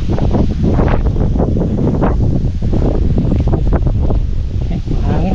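Strong wind gusts roar across a microphone outdoors on a farm field, a steady buffeting rumble with no pauses and no clear talking.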